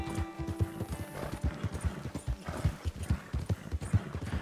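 Horse hooves clip-clopping at a steady walking rhythm in the Red Dead Redemption II video game, close and clear, with a faint whinny in the game's outdoor soundscape.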